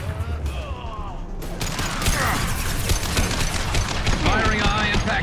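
Gunfire in Mass Effect 2 as a high-impact shot goes off, dense bursts of shots and impacts crackling over a busy combat din, sustained and fairly loud throughout with scattered chatter mixed in.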